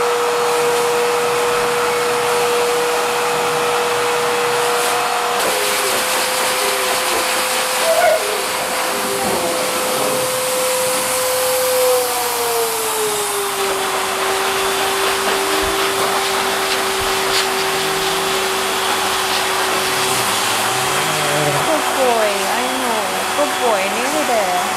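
A hair dryer blows a steady, loud, whining airstream onto a Cane Corso drying after a bath, running continuously with slight shifts in pitch as it moves.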